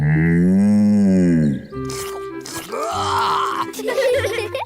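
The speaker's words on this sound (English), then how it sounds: "Bessie's a cow." A cartoon cow gives a long, loud, wavering moo up close, followed by a clattering, mouthy licking noise and brief speech.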